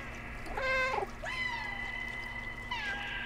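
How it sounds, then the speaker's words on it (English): Several meows from cats in the Stray video game, a few drawn-out, fairly close calls in quick succession over a steady trickling water bed and low hum. "I can hear the other cats!"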